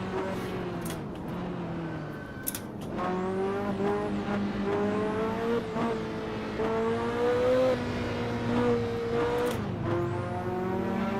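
Car engine in Assetto Corsa revving and dropping through gears, the pitch stepping down in repeated downshifts with rising and falling harmonics, loud and close, with no talk over it.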